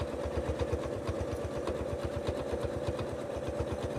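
Domestic sewing machine, a larger Janome, free-motion quilting a feather filler design, running in a steady fast needle rhythm with a constant motor hum, close and alone.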